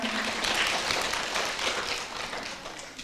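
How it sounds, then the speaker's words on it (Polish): A steady wash of audience clapping greets a jury member at a county culture and song festival, moderately faint and continuous for a few seconds. "Wielkie brawa oczywiście"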